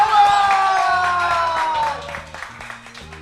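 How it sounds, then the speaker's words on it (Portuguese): Studio audience applause and cheering at the close of a talk show, a loud burst of clapping with whoops that fades over a few seconds under background music. "Palmas!"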